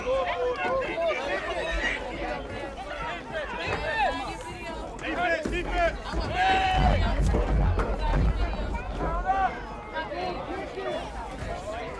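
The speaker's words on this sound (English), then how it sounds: "we got a nice little crowd out here" Crowd murmur and chatter from spectators at an amateur ACFA football game between the Brunswick Railroaders and Baltimore Rams, a steady outdoor babble of many voices with occasional louder calls, close and continuous throughout.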